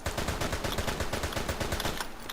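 Rapid submachine-gun fire in the video game Military Conflict: Vietnam rattles out as a steady burst of evenly spaced, punchy shots, close and loud, easing off right at the end.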